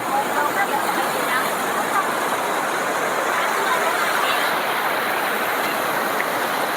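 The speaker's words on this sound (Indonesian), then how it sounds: "lihat keseruan anak-anak main mandi di sungai" Children bathe and play in the Ciesek river, some on inner tubes, with a constant, dense rush of flowing water that fills the whole scene and carries faint crowd voices.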